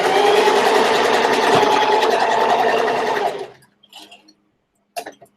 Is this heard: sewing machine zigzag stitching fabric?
yes